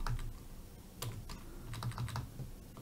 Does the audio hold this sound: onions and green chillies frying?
no